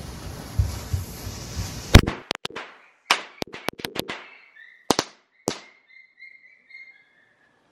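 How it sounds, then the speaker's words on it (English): A series of sharp firecracker-like bangs, loud and scattered, with a cluster around the middle and a few fainter pops and crackles trailing off. "we got some firecrackers"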